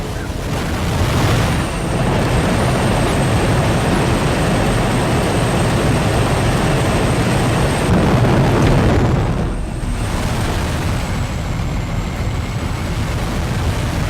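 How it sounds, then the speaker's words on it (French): Aircraft in the Just Cause 3 video game losing altitude: a loud continuous engine roar with a thin high whine, briefly dipping and shifting mid-stretch before resuming steadily, with no speech. "L'avion perd de l'altitude, Rico."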